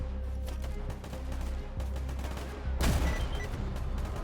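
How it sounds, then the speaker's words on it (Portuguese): Gunfire in a S.T.A.L.K.E.R. mod video game: a rapid burst of shots followed by a louder, sharper blast near the end, with no talking over it. "Assim que a barulheira dos tiros começaram"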